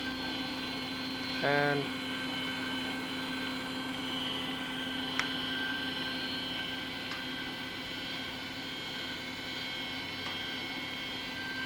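Brown & Sharpe Precision universal ID/OD cylindrical grinder, an 8" x 14" machine, with its ID spindle running: a steady broadband machine whine with a constant high tone throughout, a brief word of speech near the start.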